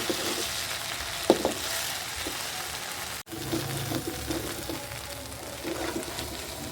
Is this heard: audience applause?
no